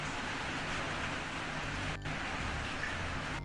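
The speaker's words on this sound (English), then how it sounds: "rain is pretty easy to loop" Looping rain sound effect: an even, soft wash of steady rainfall with a brief dip where the loop seams, otherwise continuous and quiet.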